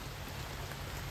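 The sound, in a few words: rain falling on island campsite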